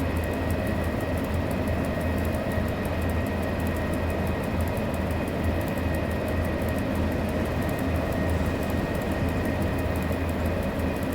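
An ET22 electric locomotive hauling a 400-ton, 190-metre train in the SimRail game on the Warszawa Wschodnia to Żyrardów route, a steady loud rumble with motor hum and rail noise, continuous and close, no voices.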